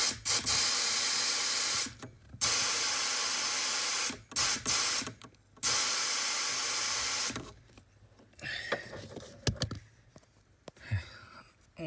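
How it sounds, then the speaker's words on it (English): Compressed air line blasting into a blocked AC drain hose on a 2010 Ford Mondeo XR5, loud hissing bursts in several separate blasts, then quieter clicks and handling noises. "Using an airline, pinning it down the hole there."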